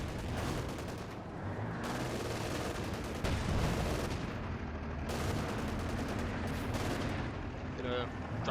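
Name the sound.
gunfire from Panthers in video game Company of Heroes 2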